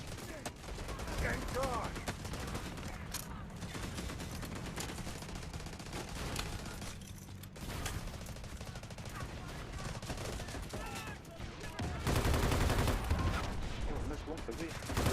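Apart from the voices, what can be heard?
artillery barrage and gunfire in a video game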